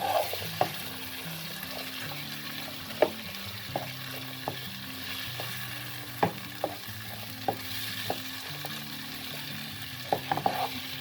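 Shrimp sauté in a pot for Jamaican curried shrimp with a soft, even sizzle. Crisp pops and spoon knocks land at irregular intervals throughout, and nothing else is heard.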